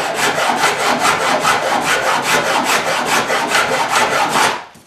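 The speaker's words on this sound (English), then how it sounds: "So break out the fine side of our little grinder here." The fine side of a small hand rasp is worked over cured filler in quick, even back-and-forth strokes, about twenty close scraping passes in steady rhythm before stopping abruptly.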